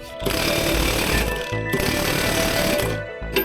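A power tool, likely an impact wrench, hammers hard at a tight pulley bolt on a Husqvarna RZ4623 zero-turn mower, in loud close bursts of rapid pounding separated by brief pauses.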